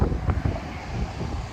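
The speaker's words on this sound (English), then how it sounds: "It's really windy here." Gusty wind along a river in the town of New Bern buffets the microphone, a continuous low rumble with brief louder bursts, no talk heard.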